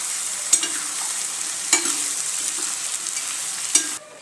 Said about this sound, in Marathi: हे फ्रेंच बीन्स आपण ह्या भाज्यांना दोन मिनटं परतून घेऊ